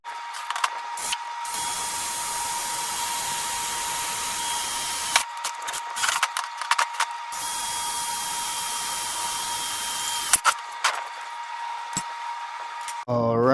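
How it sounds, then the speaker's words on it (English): A drill whines loudly and steadily while boring holes in a steel canopy frame, running in long passes broken by short pauses and clanks. "let me go ahead and get these holes drilled out"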